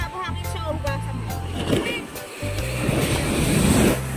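Sea waves washing onto a beach where a boat has passed, a continuous rushing surf with gusts of wind noise on the microphone and voices chattering over it.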